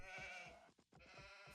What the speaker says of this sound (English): Those are some of the AI sheep.